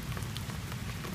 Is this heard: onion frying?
no